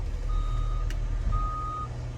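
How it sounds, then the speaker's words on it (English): Hydraulic tilt raising a truck cab, with a steady hum and two long, level warning beeps sounding close by. "Press and hold, cab goes up."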